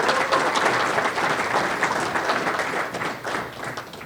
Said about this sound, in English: So another big round of applause for our sponsors.